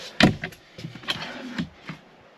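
Storage door on a 2024 Midwest Automotive Designs Legend FSL luxury B-van closing: a sharp close knock followed by a few lighter clicks and rattles of the latch, close and fairly quiet.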